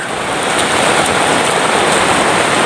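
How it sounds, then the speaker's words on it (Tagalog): Heavy rain pours down steadily outdoors, a dense continuous hiss of water on surfaces filling the whole stretch without a pause, loud and close, with no voices over it. "Grabe lakas ng ulan na ba?"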